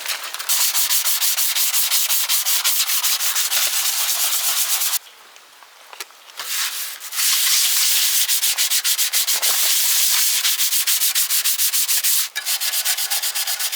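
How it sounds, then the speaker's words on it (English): Fine-grit wet and dry paper rubbing over an old roof surface, a loud, close, continuous hissing scrape with rapid strokes, briefly pausing midway before resuming. "use some very fine grit, wet and dry, and then polish it afterwards"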